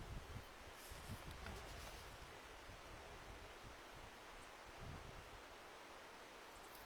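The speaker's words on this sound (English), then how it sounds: "And the lovely wind in the trees." Wind moving through trees beside the Findhorn River, a soft, steady rushing hiss of leaves that holds evenly throughout, faint and distant with no voices.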